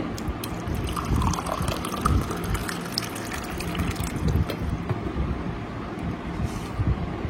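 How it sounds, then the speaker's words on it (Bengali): Water is poured over a few pieces of kutila (tragacanth gum) to soak them while making a lychee sherbet, a steady close splashing and trickling stream that lasts throughout. "এটা ভিজিয়ে রাখবো 1 ঘন্টার মতো জল দিয়ে।"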